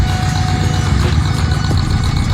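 A car engine idles with a deep, steady low rumble, close and constant throughout, with no one talking over it.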